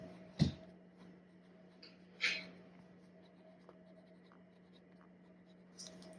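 A pen lays ink on paper in a quiet room, giving a few faint, sparse scratching strokes with long pauses between them, close by.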